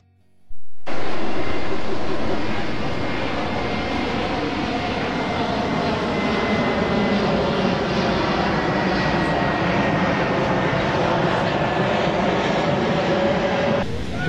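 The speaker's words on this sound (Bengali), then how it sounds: "মাঝে মাঝে উপর দিয়ে বিমান উড়ে যাচ্ছে" A steady, broad engine roar starts abruptly and holds for the whole stretch, like a jet aircraft passing overhead, with no talking, near the sea in Antalya, Turkey.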